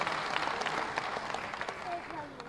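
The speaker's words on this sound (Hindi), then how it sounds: "एक बार जोरदार तालियों से स्वागत और अभिनंदन।" A crowd applauds to welcome the deputy chief minister at a Chhattisgarh Tourism Board ceremony, steady clapping that runs under amplified speech and an announcer's voice throughout.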